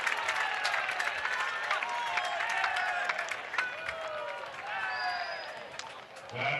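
Spectators at an ultimate frisbee world championship final between the USA and Great Britain applaud and cheer in a broad, sustained wash of crowd noise, with a commentator talking over it throughout.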